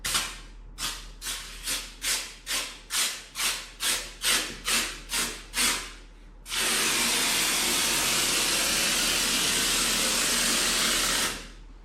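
A Kraken sprayer fires close to a wall, first in a dozen short rhythmic bursts, then in one loud, continuous solid spray that holds for several seconds before cutting off.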